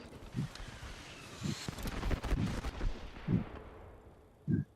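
Gunfire in the battle royale game Apex Legends, sounding as several separate booming shots spaced a second or so apart over a rough, windy background, moderately loud.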